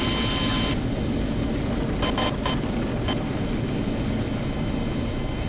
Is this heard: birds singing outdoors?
no